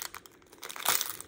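Packaging being torn open and crinkled during an unboxing of convenience-store character goods: a run of soft rustles building to a louder tearing crackle near the end, close and without talk.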